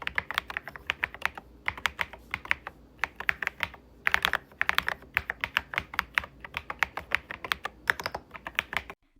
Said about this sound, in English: I do like a creamy sounding keyboard